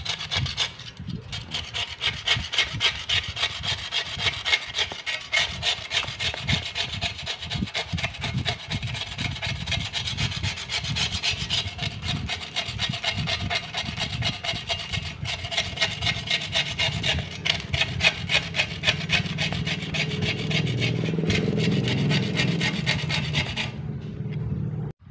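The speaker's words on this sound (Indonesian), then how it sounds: "Kita pakai cutter karena ini untuk kerak-keraknya sangat tebal ya." A cutter knife scrapes a thick crust off the cone of an old 12-inch ACR speaker. The rasping strokes are close and steady, repeating rapidly and continuously for about 25 seconds with no talking.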